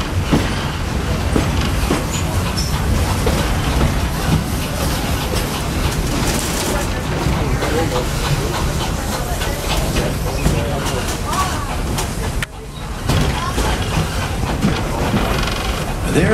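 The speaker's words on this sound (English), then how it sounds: "There are some who say that this steam train is a little old-fashioned" Loud, continuous rumble and rattle of a steam train running on rails on the Walt Disney World Railroad, with steady clatter and hiss throughout and a brief dip near the end.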